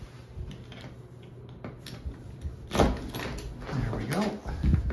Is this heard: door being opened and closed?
yes